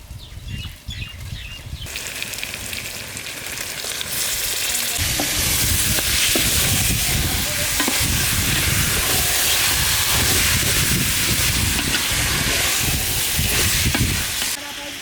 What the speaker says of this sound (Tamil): அரைச்சி இஞ்சி பூண்டு போட்டு நல்லா வதங்கிட்டோன்னே கறி சேர்த்துக்கலாம்.